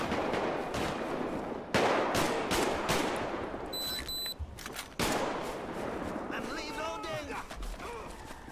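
Rifle gunfire in GTA V with the LSPDFR police mod, heard as loud, sharp shots and short bursts over ongoing game noise, with a voice talking throughout.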